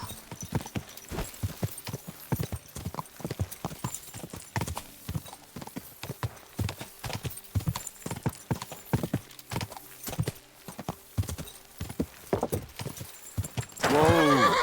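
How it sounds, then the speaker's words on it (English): Horse hooves clip-clop in a steady, brisk rhythm in the video game Kingdom Come: Deliverance II, close and clear, ending with a loud whinny. "Looks like a bloody expensive horse."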